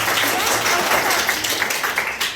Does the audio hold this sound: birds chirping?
no